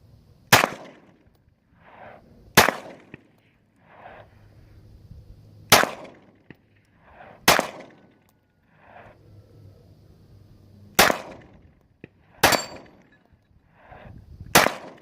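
Pistol shots at a shooting range crack out about every two seconds, sharp and loud, with softer quieter sounds between them.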